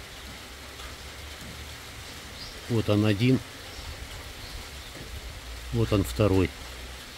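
Steady rain pouring down outdoors, a continuous dense hiss throughout, with someone talking briefly twice over it.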